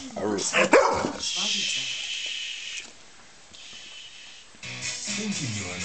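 A Labrador barks and yips loudly up close at the start, then a steady hiss and background noise follow; a person talks to the dog.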